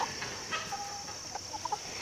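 Chickens give soft scattered clucks and short calls near a backyard coop and run, faint over a steady hum of background noise.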